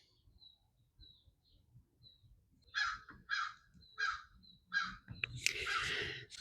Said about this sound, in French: Les corneilles puis les corbeaux.